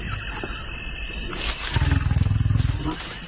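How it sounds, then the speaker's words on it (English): Huge big cats such as lions give a deep, rumbling roar that builds into a rapid pulsing growl, loud and close, heard at night in the wild. "They're huge, powerful animals, and those growls and roars just rattle through your body."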